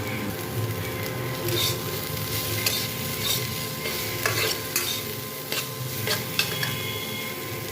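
Vegetables frying crisp in a pan: a loud, continuous sizzle with regular scraping strokes of a stirring spoon against the metal, all over a steady background hum.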